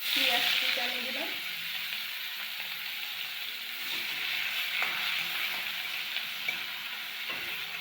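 Chopped onion fries in oil in a wok (kadai) with dried red chilli, cumin and a bay leaf, giving a steady, close sizzle with occasional stirring clatters while no one speaks.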